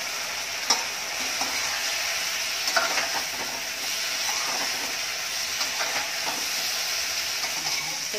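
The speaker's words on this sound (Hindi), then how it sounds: "और अब जो अपने पोटैटोज हैं इनको डाल देंगे।" Potatoes fry and get stirred in a pan over a high gas flame, giving a steady close sizzle and hiss broken by a few scraping clicks of the spoon, with no talking.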